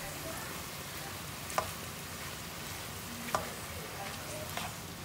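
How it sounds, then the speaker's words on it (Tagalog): Ground meat seasoned with soy sauce sizzles steadily in a pan as hotdog pieces are stirred in, with a few sharp utensil scrapes and clicks over the low, constant frying hiss. "Sunod namang ilagay ang hotdog."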